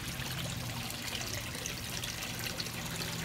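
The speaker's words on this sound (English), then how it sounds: "So look, water is trickling back into here" Water trickles back into a tank of an aquaponics system, a steady, even wash of splashing and dribbling with no pauses, close by and without any voices.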